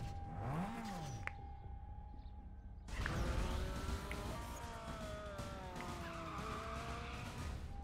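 Cars race in Need for Speed Most Wanted with a long tire skid and screech, followed by a dense roar of engines and squealing tires as the race gets going.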